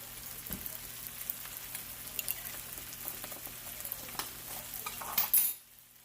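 Brussels sprouts cooking in butter in a pan give a soft, steady sizzle close by, with a few light clinks and stirring noises before a brief louder clatter near the end.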